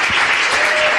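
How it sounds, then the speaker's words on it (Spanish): Audience applause welcoming guests to a talk show stage, a dense steady wash of clapping from a full crowd filling the whole moment. "Sergio, a Walter, un fuerte aplauso."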